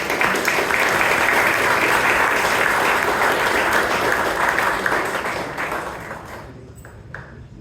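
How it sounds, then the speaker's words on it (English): A room full of people claps steadily at a Toastmasters club meeting in Bangalore, loud and dense applause that gradually thins and fades over the last two seconds. "Let us give them a round of applause."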